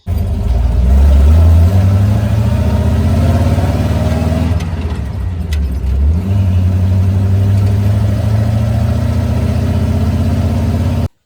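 A hot rod car loaded with wheel rims drives along, its engine droning loudly and continuously with a brief lull in revs midway before pulling steadily again; no talking.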